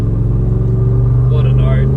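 A V8-swapped Holden Commodore VS, originally fitted with a 3.8-litre V6, idles with a loud, deep, steady exhaust rumble. A brief voice rises faintly over the engine near the end.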